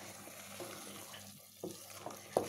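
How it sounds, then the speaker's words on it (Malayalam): Garlic chicken with cashew paste stirred in a pan, a soft low scraping and sizzle with a few sharper clinks of the spoon near the end, close and fairly quiet, no voices. "നന്നായിട്ട് നമുക്കൊന്ന് ഇളക്കി കൊടുക്കാം."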